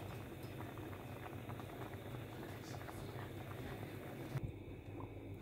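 Vegetables for broccoli soup simmer in a pot, a steady close bubbling and light patter running throughout, with a faint clink near the end.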